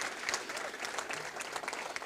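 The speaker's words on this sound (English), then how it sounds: "Let's give Maureen McGuire a round of applause." A crowd at an Honor Flight Rochester welcome-home event claps in a round of applause for Maureen McGuire, heard as steady, fairly faint clapping from an indoor audience throughout.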